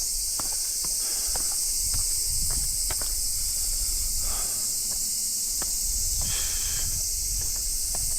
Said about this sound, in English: And those cicadas are humming. They're singing to me.